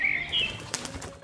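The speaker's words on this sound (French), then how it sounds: "comme l'oiseau" Bird wing flaps as a sound effect for a pollination board game, a brief fluttering burst near the middle of a short stretch, fairly close, with a faint bird-like whistle at the start and no talk.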